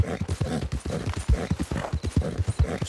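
Horse hooves clip-clop steadily in the Red Dead video game, a close, brisk rhythmic series of hoofbeats with no talk over them.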